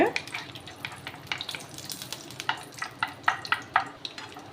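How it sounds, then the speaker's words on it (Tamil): Cashews frying in melted ghee in a pan for a Vijaya Dashami recipe, with a steady sizzle and a series of sharp scraping stir strokes, close and fairly loud, no talking. "நெய் நல்லா மெல்ட் ஆன உடனே கேஷ்நட் எடுத்துக்கோங்க கேஷ்நட்டு ஃப்ரை பண்ணிக்கோங்க"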